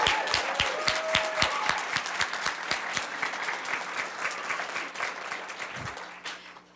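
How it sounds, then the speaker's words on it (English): An audience at an evening poetry recitation regional final gives a round of applause, several seconds of steady, fairly close clapping with some loud nearby claps, fading toward the end. "Let's give another round of applause for all of the great work this evening"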